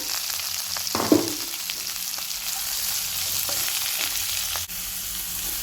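Sliced large onions frying in oil with cumin for a chana roast, with a steady close sizzle and a brief stirring burst early on.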